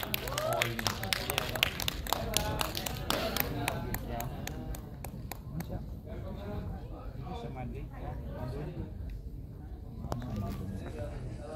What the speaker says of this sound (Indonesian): Boleh kita berikan tepuk tangan sekali lagi untuk Naila Purnama, Giselma Firmansyah, Tante Lydia Kandau, Fahad Haidra, dan Yusuf Mahardika